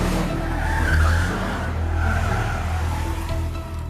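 A car peels out with a loud, sustained tire screech and skid over an engine roar lasting several seconds, close and unbroken as a sound effect.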